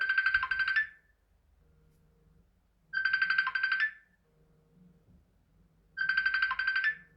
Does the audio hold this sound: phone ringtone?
yes